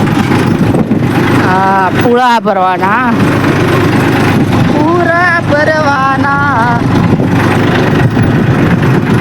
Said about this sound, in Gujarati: A tractor